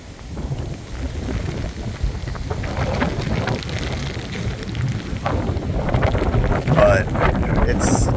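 Gusty wind blows the morning after Hurricane Ian in Clermont, Florida. It buffets the microphone in a steady, rough roar that grows slightly stronger toward the end.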